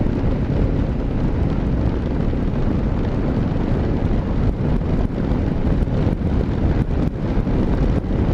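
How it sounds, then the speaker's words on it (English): Strong wind buffets the microphone in a steady, loud roar, with gusty low rumbling throughout and no voices. "It's windy."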